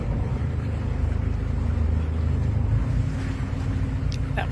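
Steady, loud drone of a motorboat engine running continuously on the water in Ireland, with wind rushing over the microphone and no pauses.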